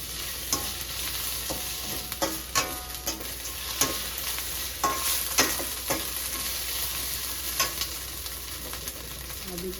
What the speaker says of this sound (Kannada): ಹಾಕೊಂಡು ಚೆನ್ನಾಗಿ ಫ್ರೈ ಮಾಡ್ಕೊಳ್ಳಿ